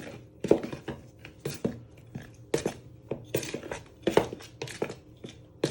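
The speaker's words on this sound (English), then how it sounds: "Then you want to give it a good stir." Dry bread flour, salt and caster sugar stirred in a mixing bowl for donut dough, with repeated close scraping and clinking of a utensil against the bowl in an irregular rhythm.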